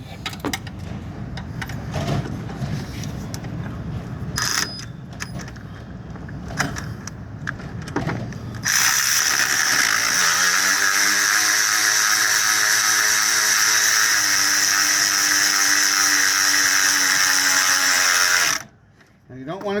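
Ratchet or power tool driving the belt tensioner on a 2004 Toyota Sienna: several seconds of mixed handling noise with scattered clicks, then a sustained loud mechanical whirring buzz lasting about ten seconds that stops abruptly, close by.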